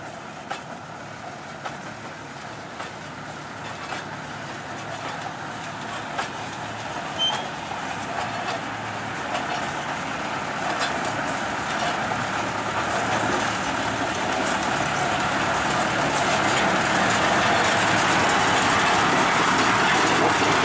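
A narrow-gauge sugar mill locomotive at PG Olean Situbondo runs along the rails with a steady, broad rumble and rattle that grows gradually louder over about twenty seconds, with no voices.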